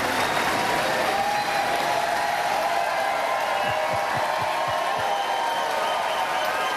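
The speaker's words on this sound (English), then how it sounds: "Please, I'm going to ask you to please hold your applause." Audience applause at a televised gubernatorial debate in Connecticut, a steady, even wash of many people clapping heard from a distance in a large hall, sustained for several seconds with faint low thumps underneath.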